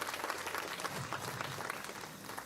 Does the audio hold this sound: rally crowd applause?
yes